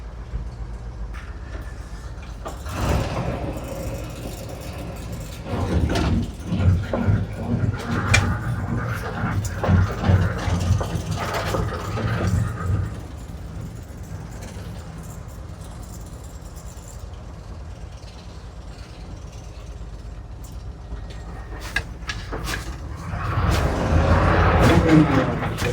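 A 1977 Ford F600 truck running rough on three cylinders rumbles along while driving, with uneven low engine chugging, rattles and bumps that swell and fade, and louder revving near the end.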